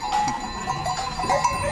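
Goats bleat at a livestock fair in Liendo, several short nasal calls rising over a busy outdoor background with faint clanking, fairly close and brief.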